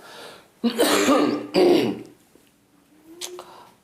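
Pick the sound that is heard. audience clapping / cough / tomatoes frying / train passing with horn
cough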